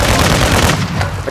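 Gunfire in the Call of Duty Modern Warfare II DMZ mode on Ashika Island during a hostage rescue: a dense, loud burst of rapid shots lasting about a second, then slightly quieter shots at the end.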